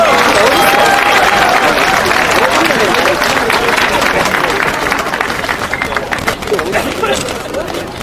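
An outdoor rally crowd applauds steadily for several seconds, a broad wash of clapping with some crowd noise mixed in.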